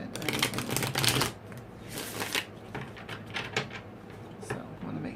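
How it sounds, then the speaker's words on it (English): Tarot cards being shuffled by hand, close up, in irregular bursts of riffling and slapping with brief pauses between handfuls. "I'm just going to shuffle it a little bit more than I normally would"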